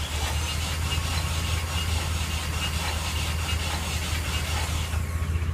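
2002 Mitsubishi Eclipse 2.4L engine cranking over without starting during a compression test, steady rhythmic starter churn repeating evenly for several seconds, close and continuous, ending abruptly.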